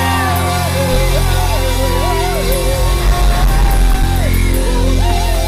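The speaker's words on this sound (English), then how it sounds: "Somebody scream in the Holy Ghost." Church congregation during a Sunday praise service, screaming and shouting in worship. The crowd noise is loud and continuous over sustained music, with a voice rising and falling above it.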